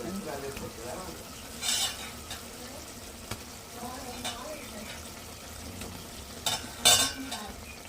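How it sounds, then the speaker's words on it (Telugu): Eggs are added to a ridge gourd curry frying in a pan and stirred in, giving a soft sizzle with scattered scrapes and clinks of a spoon against the pan. "గుడ్లు అయితే వేసుకుందాం"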